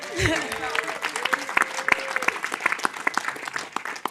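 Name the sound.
applause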